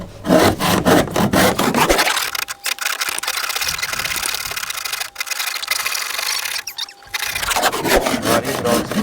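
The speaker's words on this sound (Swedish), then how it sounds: "såga på" Hand saw cutting through wood in a garage: steady back-and-forth rasping strokes, close and loud, with voices briefly at the start and end.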